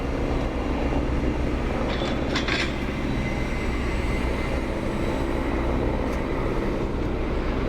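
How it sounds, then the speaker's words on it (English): A helicopter lifts off from a nearby hospital and heads out, its steady broadband engine and rotor roar filling the scene continuously, loud and unbroken, over an outdoor renovation site with no one speaking. "Helicopter taking off from the hospital over there"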